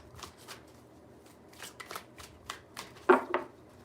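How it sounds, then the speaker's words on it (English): A deck of tarot cards is shuffled in a series of short, crisp riffling bursts, close and fairly quiet, ending in a louder final shuffle. "2 more shuffles."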